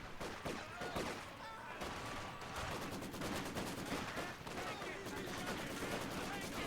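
Sustained in-game gunfire from Company of Heroes 2, with a machine gun rattling amid dense battle noise for the whole stretch, loud and continuous under occasional talk.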